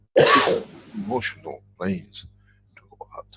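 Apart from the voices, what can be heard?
sneeze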